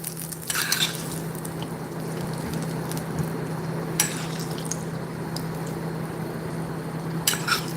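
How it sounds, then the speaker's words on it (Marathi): Hot tempering of dry red chillies and curry leaves poured over aboli chutney, a steady close sizzle with several bright metallic clinks of pan and spoon over a constant low hum. "सुक्या लाल मिरच्या कढीपत्ता वा आणि खमंग अशी फोडणी या सुरेख अशा चटणीवर घालायची"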